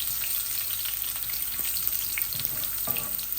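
Garlic frying in a pan for a fish curry with katla fish, a steady close, dense hiss and sizzle with faint scattered crackles throughout, no talking.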